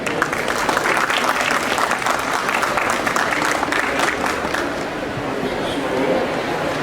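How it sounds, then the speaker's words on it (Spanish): A book fair audience bursts into loud, dense applause to welcome the presentation's panelists, a continuous roar of clapping with a few voices in the crowd that eases slightly near the end. "Los recibimos con un fuerte aplauso."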